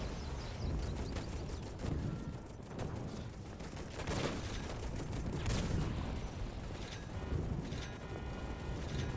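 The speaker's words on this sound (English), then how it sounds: "I hear shots." Gunfire rattles through a Toy Soldiers battle, a steady stream of quiet, clicky, mechanical-sounding shots and bursts heard from a distance across the field.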